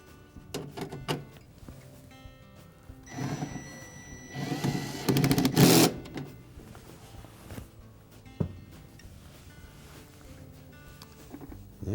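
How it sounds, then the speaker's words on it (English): A 1/4 inch drive ratchet tightens bolts on a Whirlpool refrigerator condenser fan motor. It gives short, close ratcheting bursts with a louder run of clicks in the middle and quiet pauses between. "Now with our 1/4" drive ratchet, we'll tighten the 2 bottom ones. And next we'll tighten the top 2."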